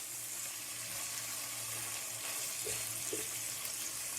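Boneless chicken frying in a pan gives a steady, faint sizzle with a soft hiss throughout and a couple of small pops, no voices.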